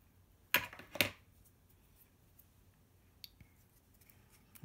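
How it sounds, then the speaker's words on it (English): Scissors snip through a strip of tape in two quick close crisp cuts, followed by faint small handling clicks in a quiet room. "Trim off my tape here."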